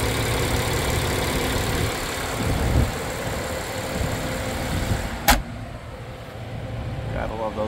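A 2019 BMW 7 Series M760i xDrive engine idles with a smooth, steady hum while someone talks over it; a sharp click cuts in briefly.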